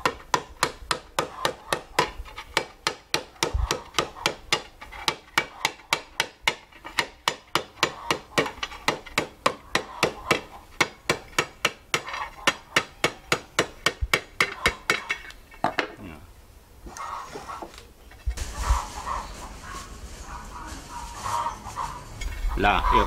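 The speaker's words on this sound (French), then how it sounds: "il faut juste un petit coup de marteau pour remettre bien à plat" Rapid, evenly spaced hammer blows ring out on tinplate as a tinsmith flattens it at a Creole craft festival. Dozens of sharp metallic strikes come close together, then stop and give way to scraping handling noises and a voice speaking.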